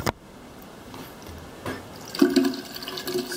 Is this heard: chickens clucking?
no